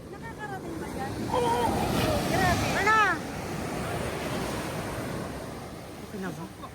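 Sea waves wash along a beach in a steady broadband roar with wind buffeting the microphone, while people talk and exclaim close by over the surf.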